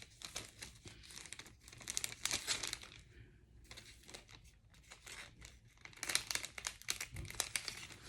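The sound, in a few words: makeup tape packaging being crinkled and handled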